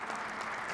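An audience claps steadily at the CAF Awards 2024 ceremony, a dense, even wash of applause from a large crowd with no break.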